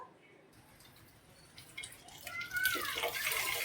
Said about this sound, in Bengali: জলটা ফেলে দিই, গামলাটা রেখে দেবো।